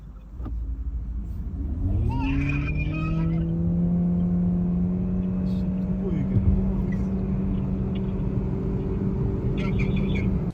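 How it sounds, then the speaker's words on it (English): Chery Arrizo 8 hybrid and BYD Qin L DM-i hybrid drag racing from a standstill to 60 km/h, heard from inside one car: engine and motor tone rising after about two seconds into a steady loud drone over road rumble. "So here is the first drag race up to 60 kilometers"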